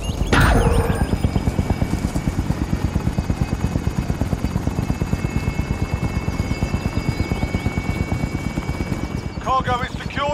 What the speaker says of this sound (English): Enemy attack chopper is in the AO.